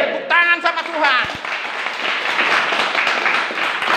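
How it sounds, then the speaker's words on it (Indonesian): A congregation at a religious sermon breaks into applause as a voice finishes speaking. Dense, steady clapping then fills the rest of the moment. "Tepuk tangan sama Tuhan."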